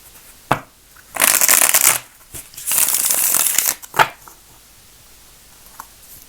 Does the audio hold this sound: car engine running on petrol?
no